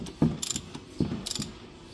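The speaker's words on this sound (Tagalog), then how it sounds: "So ayan ay kinakabit na natin yung bago nating oil filter." A new oil filter goes onto an engine by hand, giving a few close metallic clicks and scrapes in a slow uneven rhythm over a quiet background.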